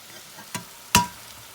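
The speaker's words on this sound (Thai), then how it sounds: "เอามาต้มเสร็จแล้วก็ผัด" Pre-boiled spinach-filled dumplings being stir-fried in a pan, heard as two brief spatula scrapes and stirs, the second louder, with little sizzle and no talking.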